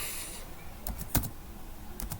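Keys on a computer keyboard are pressed while a document is set up, giving a few quick, close clicks over faint background noise.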